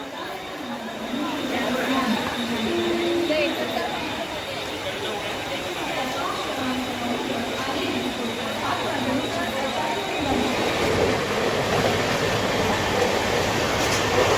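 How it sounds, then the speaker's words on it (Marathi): A Janshatabdi express train rumbles steadily with rhythmic rail noise after leaving Dadar, Mumbai, while people talk and chatter nearby inside the carriage. "आता दादरवरनं ट्रेन सुटलेली आहे"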